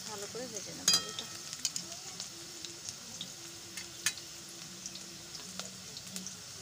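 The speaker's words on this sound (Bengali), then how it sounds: "আলুটা দিয়ে আর ভালো করে ভেজে নেব আলুটা" Potato pieces fry in a pan with a soft continuous sizzle, broken by occasional sharp clicks and scrapes of stirring, fairly quiet and close.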